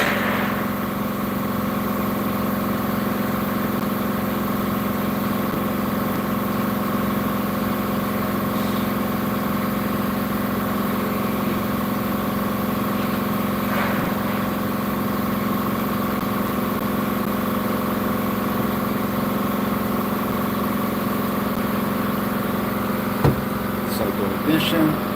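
A 1964 GMC truck engine idles steadily just after its first start, a constant low droning hum with a few faint clicks and knocks near the end.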